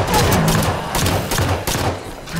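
Rapid gunfire in the video game Halo 5: Guardians, dense bursts of automatic shots and thuds in close succession, loud and continuous across the moment.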